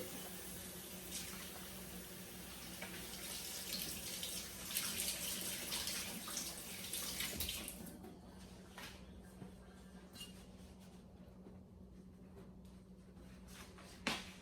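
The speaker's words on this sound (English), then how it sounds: "So first and foremost, you know that I'm about to wash my hands" Running tap water while hands are washed in a home kitchen, a steady close splashing stream that grows louder with hand movement, then drops to a softer trickle.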